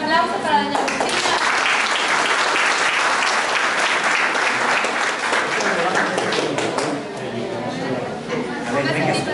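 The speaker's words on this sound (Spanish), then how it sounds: "Un aplauso para doña Cristina." Audience at a municipal government event in Atoyac claps for doña Cristina, dense sustained applause from a crowd with chatter mixed in, dipping briefly near the end and then swelling again.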